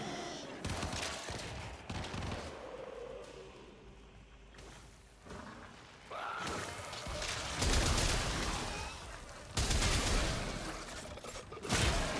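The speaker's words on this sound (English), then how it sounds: "This is the part where I just go and mag dump" A gun magazine emptied in Warframe against Infested enemies, sustained rapid fire in long loud stretches broken by quieter gaps with whooshing ability effects and dull impacts.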